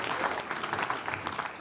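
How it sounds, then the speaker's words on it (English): Audience applause for sponsors at the Swiss Coffee Festival, a dense, steady patter of many hands clapping close by with no gaps across the short burst. "Applause, everybody. Give it up for them."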